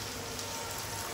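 Heavy rain pours down outside in a dense, even wash of noise, steady and unbroken throughout the short stretch, with no voices.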